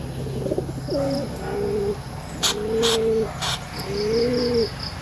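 An injured pigeon, wounded by a falcon, coos close by: three soft, hollow, throaty coos, each a short rising-falling phrase, with faint sharp clicks and a light chirp in the background.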